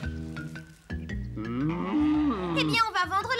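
A cartoon cow, the royal cow in a Super Mario Bros episode, gives a long, drawn-out moo that rises and wavers over several seconds, loud and close over a faint music bed.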